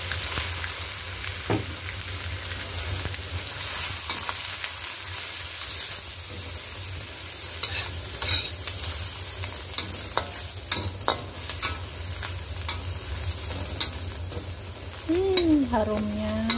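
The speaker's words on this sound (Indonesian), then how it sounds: "setelah harum jadi goreng dulu nih sama bawang merahnya, tercium wanginya udang rebon ya" Small dried shrimp and shallots sizzle and crackle in a hot pan while being stir-fried, with steady frying hiss, scraping stirs and clinks of the utensil, and a brief sliding tone near the end.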